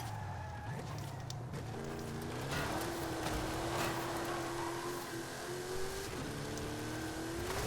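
Race car engine in Forza Horizon 5, a steady loud drone that climbs smoothly in pitch as the car accelerates, with faint tyre and road noise underneath.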